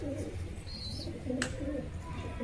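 Pigeons coo softly and repeatedly nearby, low rolling calls overlapping against a steady outdoor background with a faint chirp.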